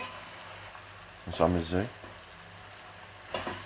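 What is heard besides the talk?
onions being stirred and frying in a pan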